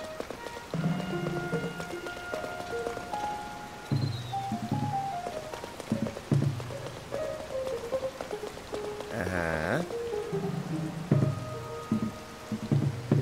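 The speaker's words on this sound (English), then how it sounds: "Do I have to just wait for it to not rain?" Steady rain falls in the video game Zelda: Tears of the Kingdom, a constant patter running under tonal game music and effects throughout, with a brief rising sweep near the middle.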